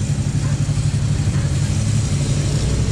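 A motorcycle engine runs steadily and close by while riding toward Little Baguio, a constant mid-pitched drone with no clear revs or gear changes.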